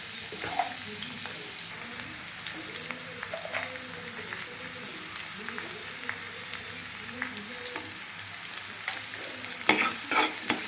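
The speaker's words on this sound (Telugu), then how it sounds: "ఈ ఆనియన్స్ బాగా బ్రౌన్ కలర్లోకి వచ్చే వరకు ఫ్రై చేసుకోవాలి." Onions with turmeric and salt frying in a pan for brinjal and chickpea curry, a continuous soft sizzle under repeated spoon stirring and scraping, with a few sharper clinks near the end.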